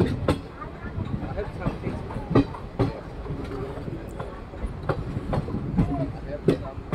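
A train rolling into Agartala railway station, with rhythmic clickety-clack of wheels over rail joints and a steady rumble, plus people talking nearby.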